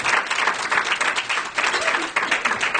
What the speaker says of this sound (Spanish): Den un gran aplauso a este gran hombre